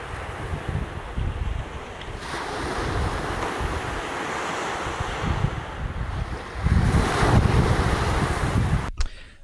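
Sea waves wash onto a beach on a Christmas day walk, a steady, loud surge of surf churned with heavy wind buffeting the microphone, swelling stronger near the end, with no voices.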